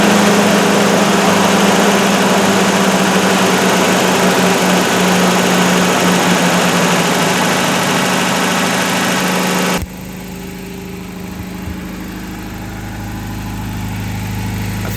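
Toyota 22RE engine running with a quiet exhaust: steady, loud, close idle drone with a faint ticking texture, shifting abruptly to a softer, smoother hum partway through.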